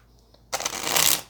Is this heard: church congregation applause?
no